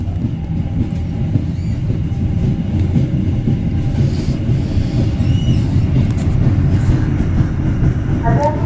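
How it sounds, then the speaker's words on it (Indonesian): A Walahar local train sits at a station platform, its low rumbling idle and rail noise continuous and fairly close, with occasional faint squeals and clicks; there is no clear talking. "Nah ini kereta api ini nih lokal Walahar yang nanti berangkat sekitar jam 11"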